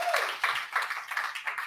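A small audience claps at a business challenge event, a quick, close run of sharp, uneven handclaps that spreads into brief applause with no clear cheering.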